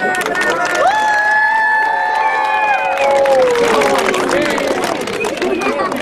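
At a cross-country race prize-giving and raffle, an outdoor audience applauds the sponsors. Dense crowd clapping and cheering run throughout under voices and children's shouts.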